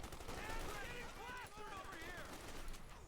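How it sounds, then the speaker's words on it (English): Light machine gun bursts in Company of Heroes 2 battle, faint rattling fire mixed with game effects and a commentator talking over it. "Cav rifle there getting blasted with the light machine guns."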